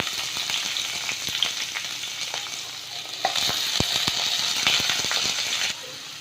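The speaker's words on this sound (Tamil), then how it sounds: "இப்போது இதிலே வெங்காயமும் பச்சை மிளகாய் ஆட் பண்ணிடுறேன்" Onions and green chillies sizzle and crackle steadily in hot oil in a pan, a close, continuous frying hiss with scattered pops and a few light clinks of a spoon stirring, with no talk.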